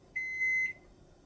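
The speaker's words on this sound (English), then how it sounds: "I'm preheating my oven to 350." An oven control panel gives one steady electronic beep of about half a second, clear and close, while the oven is set to preheat to 350 degrees.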